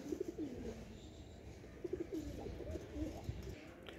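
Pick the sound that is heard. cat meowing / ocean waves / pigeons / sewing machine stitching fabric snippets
pigeons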